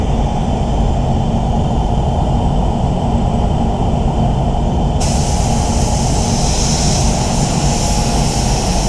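A spray gun hisses steadily while laying down silver basecoat, a loud, continuous close-up rush of air and paint mist with a sudden shift in tone about halfway through.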